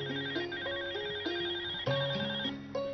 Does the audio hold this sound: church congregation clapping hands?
no